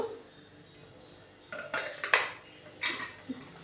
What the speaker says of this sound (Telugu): దీనికి కప్పు పెట్టేద్దాం కుక్కర్ కప్పు